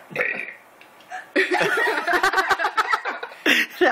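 A person burps their way through letters of the alphabet: a string of loud, close, drawn-out belches with brief pauses between them, mixed with snickers and chuckles.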